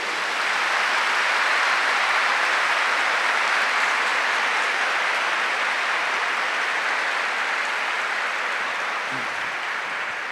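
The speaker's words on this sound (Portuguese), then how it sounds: "dê um aplauso pelo amor dessa pessoa" A church congregation applauding during a Mass, a broad, even roar of many hands clapping that holds steady and continuous throughout, sounding like a hiss of rain.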